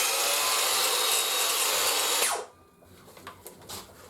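A DeWalt power saw motor whirs loudly and steadily, then cuts off and spins down, leaving quiet room noise with a few faint clicks.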